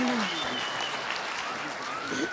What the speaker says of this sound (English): give a big round of applause for this girl